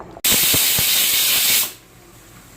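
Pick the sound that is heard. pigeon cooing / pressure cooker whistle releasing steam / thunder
pressure cooker whistle releasing steam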